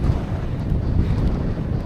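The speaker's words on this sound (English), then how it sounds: "Them 30-mile-an-hour gusts have definitely arrived." Strong wind gusts of about 30 miles an hour roar across a Lake District summit, buffeting the microphone with a loud, continuous low rumble and no talking.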